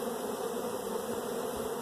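Honey bees hum around an open hive while heavy brood frames are lifted during an inspection, a loud, continuous buzz close by with no talking.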